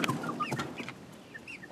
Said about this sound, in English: First of all, let me show you the chickens there.